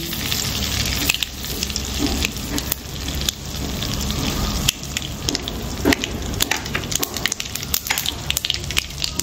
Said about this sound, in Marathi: आता हे आपलं छान बटर वितळलं आहे. आता अशात आपण घालणार आहे मोहरी,